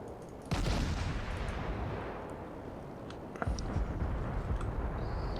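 Heavy naval gunfire in World of Warships, with booming salvos from warship guns: one loud blast then a long rumbling roll, and a second burst of shots around the midpoint, sustained battle noise throughout with no talk.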